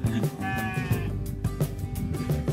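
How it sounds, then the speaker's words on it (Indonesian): Etawa crossbreed (PE) goat bleating at a rural Indonesian farm setting, a few loud wavering bleats in quick succession, close by, with faint background noise and no clear talk. "Ini kambing PE."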